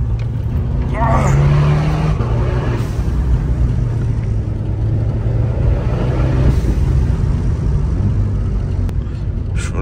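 A 200 HP car drifting through the streets of Monaco, its engine loud and roaring close by for the whole stretch, with people talking excitedly over it.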